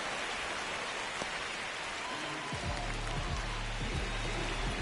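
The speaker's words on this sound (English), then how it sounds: "It feels like we might be headed towards a rain delay if the weather doesn't ease up, Chris." Steady, dense rain falls in the baseball game MLB The Show 26, a constant loud hiss throughout with a low hum entering partway through.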